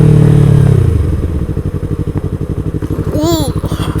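A motorcycle rides over gravel, its engine thrumming in a steady pulsing rhythm close to the microphone, with crunching tire noise, a brief whistling tone near the end and someone talking over it.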